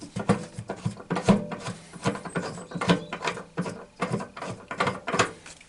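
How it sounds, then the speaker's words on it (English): Ratcheting wrench loosening the two seat bolts on a campervan seat, a close, fast run of mechanical clicks coming in repeated bursts with brief pauses between them. "So we need to loosen the bolts off."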